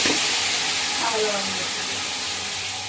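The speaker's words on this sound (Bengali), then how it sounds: "প্রথমে আমি মশলাটা ছেড়ে দিচ্ছি" Masala spices hit hot oil in a pan and sizzle loudly with a constant close hiss that fades slightly over a few seconds.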